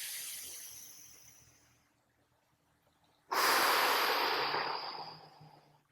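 A deep, forceful breath out trails off into silence during a maximal breathing drill in a mobility class, then a strong, loud airy inhale or exhale rushes in and fades over a few seconds, close to the microphone.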